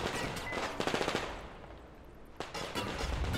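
Automatic weapon fire in the video game Metro Exodus Enhanced Edition, rapid bursts of loud close shots that pause briefly and then resume, with no speech over them.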